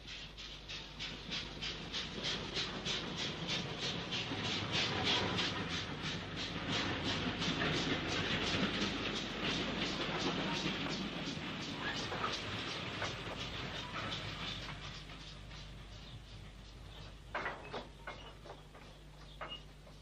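A 1950s LMS steam locomotive, one of its class, hauls a train along the up-fast line, the sound steady and fairly loud, with dense rhythmic wheel beats and clatter throughout, thinning toward the end.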